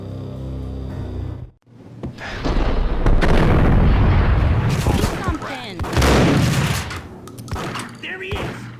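Gunfire erupts in the 2001 video game Max Payne, loud dense bursts of shots and booming impacts after a brief hush, layered with a low musical drone and a voice speaking under the chaos.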